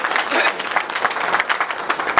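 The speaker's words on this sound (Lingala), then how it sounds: "Est-ce qu'on peut applaudir pour toutes les femmes?" An audience at a cancer awareness and screening campaign event applauds for the women, a dense, steady burst of clapping with some crowd voices mixed in.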